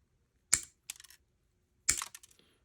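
Snap-on 7-inch diagonal cutters make two sharp, crisp snips about a second and a half apart, each a close, bright click followed by a brief rattle of the jaws, with quiet between.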